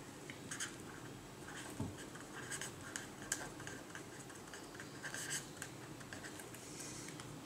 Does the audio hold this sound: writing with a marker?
yes